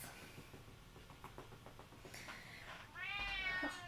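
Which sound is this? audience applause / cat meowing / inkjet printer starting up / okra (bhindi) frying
cat meowing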